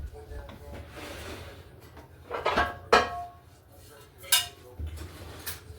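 A metal pizza-cutter slicer clanks and scrapes into a baking pan of cinnamon rolls, making a few uneven clinks and knocks near the listener with a low voice in the background.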